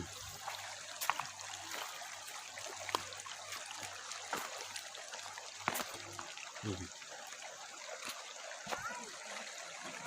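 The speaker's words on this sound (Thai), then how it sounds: "ลำธาร" Steady watery trickling and splashing from a nearby stream fills the scene, with a low hum underneath and occasional soft knocks.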